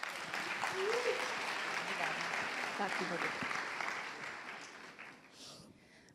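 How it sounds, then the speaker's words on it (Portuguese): Audience applause at an e-commerce industry talk, a broad steady clatter of many hands that gradually thins and fades, with a brief voice speaking over it near the start. "Palmas para ela, pessoal."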